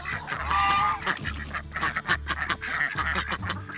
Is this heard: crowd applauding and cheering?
no